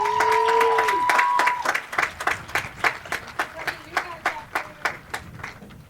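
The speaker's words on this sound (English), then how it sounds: "Let's give her a round of applause." A crowd applauds at a high school graduation ceremony. It opens with a held whistle-like tone over dense clapping, then settles into a rhythmic, pulsing round of claps.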